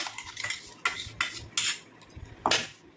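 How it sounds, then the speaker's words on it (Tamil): A spoon clinks and scrapes against a tea filter while straining juice, a few sharp metallic taps spaced irregularly over quiet background, close by with no talk. "இப்போ இதை வந்து நம்ம ஒரு டீ ஃபில்டர் வச்சு நம்ம வடிகட்டி எடுத்துக்கலாம்"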